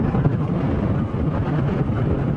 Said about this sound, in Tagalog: Pansin nyo, ang lakas ng hangin